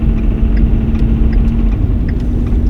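A truck engine after a turbo failure, running with no boost while smoke pours from the back, gives a steady, loud, low rumble with a constant hum and no change in pitch throughout.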